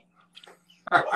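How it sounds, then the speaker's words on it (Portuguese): Small dogs bark indoors in a house with children around: quiet scattered yips and a whimper early on, then one louder, sharper bark burst at the end, close by. "se vocês escutarem uns cachorrinhos latindo"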